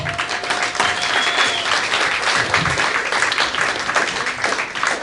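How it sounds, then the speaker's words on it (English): A theatre audience at a stand-up comedy show at the Camino Real Playhouse claps steadily for the comedian, a dense, even wash of applause lasting throughout without a break. "Give a round of applause for Mr. Nate Wyckoff."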